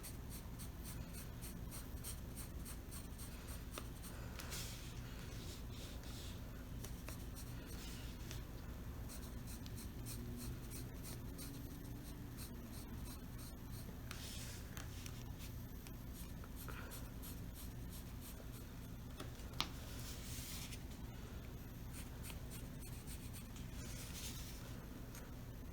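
Pencil sketching on paper while making a paper snowflake, a steady close scratching of graphite with short pauses and a brief tap, alone without talk.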